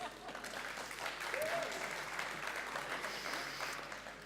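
An audience at an on-stage session at a Danish shipping event applauds with steady clapping that swells in the middle and holds on, a faint voice briefly heard under it.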